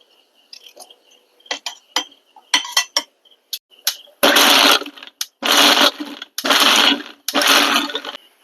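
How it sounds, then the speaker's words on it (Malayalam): A kitchen mixer grinder grinds peeled beetroot with tea leaves, starting with short clinking taps and brief pulses, then running in several loud, close bursts separated by short pauses. "ഇനി നമുക്കിത് മിക്സിയിലിട്ട് നന്നായിട്ട് അരച്ചെടുക്കണം"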